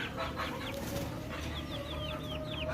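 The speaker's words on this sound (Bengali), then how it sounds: "এই জাতটিকে বলা হয় টাইগার মুরগির জাত।" Tiger-breed chicks about ten days old peep in short, high, repeated chirps, close and clear over a steady low background hum.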